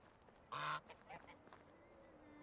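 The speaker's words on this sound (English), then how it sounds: "Goose." Goose in the video game Medieval Dynasty gives one loud, short nasal honk, followed by a couple of fainter calls over quiet outdoor ambience.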